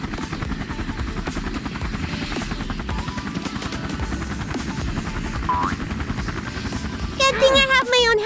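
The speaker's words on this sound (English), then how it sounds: "Good thing I have my own helicopter!" Cartoon helicopter at a rich family's house, a steady mechanical rotor whir running under music and speech throughout, ending in a louder burst of rising chirpy tones.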